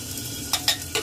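Grated tomato and spices fry in a pan, with a low steady sizzle under three quick, sharp scrapes of a spoon stirring the mixture, close by.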